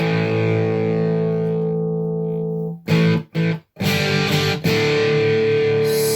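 Electric guitar played through an Allen & Heath SQ mixer's preamp with the drive raised, giving a sustained, distorted, hairy chord tone that cuts out briefly in the middle and then rings on, with no talking.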